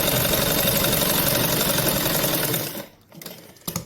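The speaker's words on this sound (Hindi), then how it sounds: "मैं आपका एक बार फिर से सिलाई लगा के आपको दिखा देती हूँ।" Domestic sewing machine running a test line of stitches to check the bobbin thread, a steady loud whir that holds for nearly three seconds, then cuts off with a few faint clicks.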